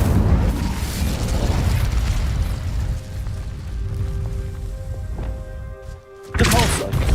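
Fiery Incendio spell blasts in a Harry Potter mobile game: a loud, roaring burst of crackling flame that fades into ringing magical tones, then a second sharp whoosh erupts near the end.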